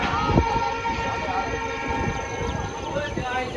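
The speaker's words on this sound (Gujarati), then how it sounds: "હવે આપણી ટ્રેન રવાના થઈ ચૂકી છે" A passenger train departing Viramgam station toward Surendranagar, heard from inside with a steady rumble, rattling carriage noise and wind buffeting the microphone, with someone talking over it.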